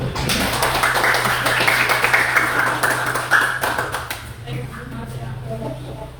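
Classroom clapping from a group of students after a presentation, a dense run of claps that rises and then thins toward the end, with a steady hum beneath and some voices mixed in.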